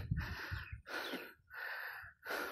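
Heavy, ragged breathing right at the mic after a hot climb up Burlakaw Hills, four long gasping breaths in a steady rhythm, close and fairly quiet, with no talk.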